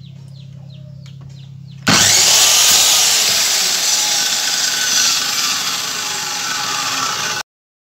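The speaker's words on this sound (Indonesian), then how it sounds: "Selanjutnya kita setel mesin potongnya ke angka 45 derajat ya teman-teman" A cutting machine saws through a length of picture frame moulding in one loud, sustained whining cut lasting about five seconds, starting abruptly and stopping sharply, with no talk.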